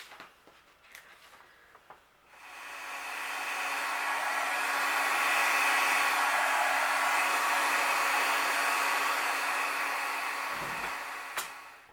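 A heat gun blows a loud, steady whooshing roar while melting embossing powder on a card, starting abruptly after a few soft taps and running continuously close by.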